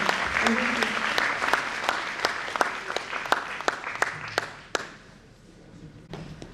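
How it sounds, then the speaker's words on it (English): Conference audience applauding at an autism awareness event, a dense wash of clapping with a few sharp individual claps standing out, fading out toward the end. "I think he deserves a phenomenal round of applause"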